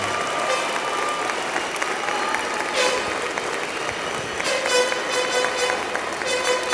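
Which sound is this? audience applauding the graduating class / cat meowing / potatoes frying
audience applauding the graduating class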